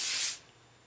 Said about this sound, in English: I just take my bedhead hairspray and just spray it all.